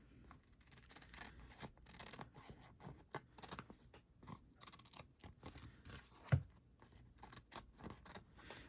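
Scissors trimming the back off a papercraft postcard piece, quiet close snips and paper rustle with a sharper cut near the end, no talking.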